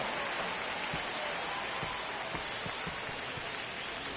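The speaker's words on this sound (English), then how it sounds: "Crowd locked in right now." A steady, dense stadium crowd roar from the baseball video game MLB 25 holds at an even level throughout, with a few faint low thumps underneath and no voices.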